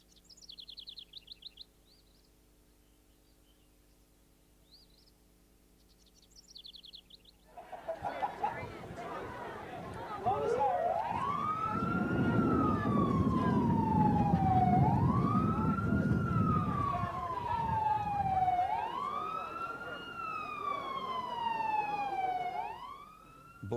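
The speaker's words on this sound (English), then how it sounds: "Blast a siren to let them go for 90 minutes" A loud wailing siren sounds outdoors to launch a morel mushroom picking contest at a mushroom festival, rising and falling in repeated sweeps over a noisy crowd after quieter bird chirps at the start.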